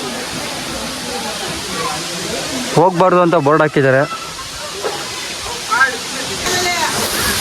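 A hidden waterfall in Karnataka rushes with a steady, broad hiss throughout, while people talk close by over the roar.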